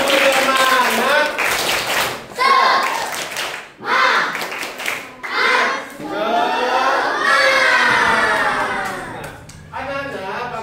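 A class of children claps together in a classroom, rhythmic bursts of hand claps mixed with excited shouting and chattering young voices throughout.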